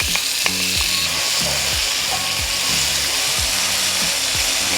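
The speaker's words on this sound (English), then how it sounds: "adding the green onions and the onions into the oil first enhance the flavor of the oil. And once they're cooked enough, add kimchi" Green onions and onions sizzle in hot oil in a cast iron pan before kimchi is added for kimchi fried rice, giving a loud, dense, continuous frying hiss with low rhythmic knocks and scrapes underneath.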